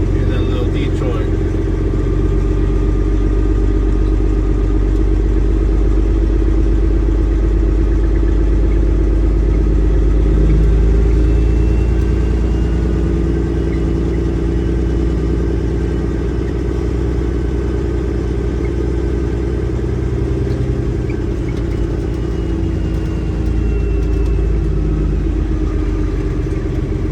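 A Detroit diesel engine in a container truck idles and runs steadily, a loud, continuous low rumble with mechanical clatter that holds unchanged throughout.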